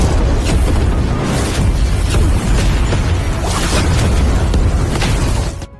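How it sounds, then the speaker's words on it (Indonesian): A loud, sustained explosive rumble with repeated booming bursts and crackling debris, filling the space before cutting off abruptly. "wanita itu yang ternyata adalah Yuan Yao menimbulkan ledakan yang cukup besar"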